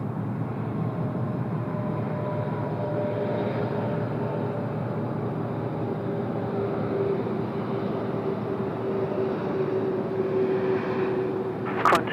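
A Korean Air Boeing 787-10 rumbles steadily at Sydney Airport on its inaugural arrival, a continuous broadband engine roar with a faint rising whine near the end, heard from a distance with no voices.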